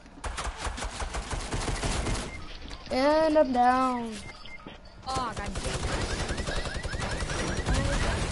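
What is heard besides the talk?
gunfire in a shooter video game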